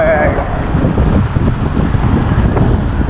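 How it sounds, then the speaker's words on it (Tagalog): Strong wind buffets the microphone in a loud, steady roar outdoors while on the road, constant throughout with a brief higher whine at the start. "Oh, lakas ng hangin."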